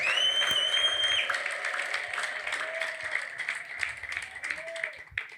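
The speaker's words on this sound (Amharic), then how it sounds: "አረ ለዚህ ስም ጭብጨባ ካላችሁ እልልታ ካላችሁ" Congregation applause and ululation at a Christian preaching service, a dense sustained wash of clapping with high trilling ululation sweeping over it, loud at first and gradually thinning over several seconds.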